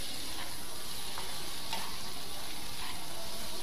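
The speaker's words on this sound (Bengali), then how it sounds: "মিডিয়াম আঁচে একটুখানি কষিয়ে নিচ্ছি।" Bok fish pieces sizzle and fry steadily in spice paste in a pan over medium heat, a continuous close hiss with faint stirring scrapes throughout.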